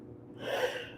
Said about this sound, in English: Got a bad sneeze.